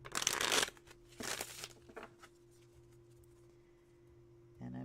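A deck of cards is shuffled by hand for a reading, two quick riffling bursts close up, followed by quieter handling and soft rustles over a faint hum.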